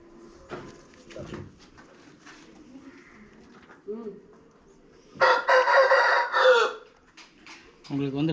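A rooster gives one loud, full crow midway through, with softer clucks and a person speaking before and after.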